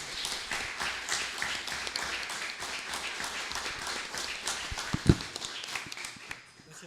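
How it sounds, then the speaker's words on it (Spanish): A seated audience at the close of an Argentine economics panel claps throughout, a steady patter of hands at moderate loudness, with a sharp knock near the end as the applause thins out. "les pido un aplauso para ellos dos."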